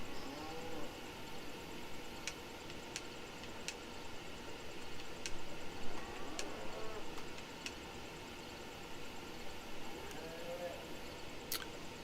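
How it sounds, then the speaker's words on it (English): Cows low repeatedly in the DayZ video game, their drawn-out moos rising over a constant muffled background with faint clicks, while someone talks intermittently. "And then now I get to hear his cows again."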